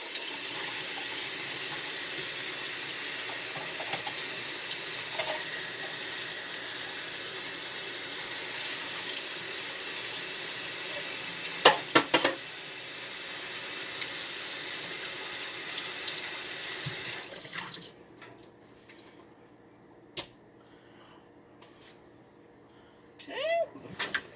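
Tap water runs steadily over canned cannellini beans in a colander at a kitchen sink, a loud continuous rush for about seventeen seconds before it shuts off, followed by a few clunks and knocks.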